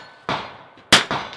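Rifle bullets strike steel targets at an NRL22 match, producing several crisp metallic clangs with short ringing tails spaced quickly apart, heard from a distance.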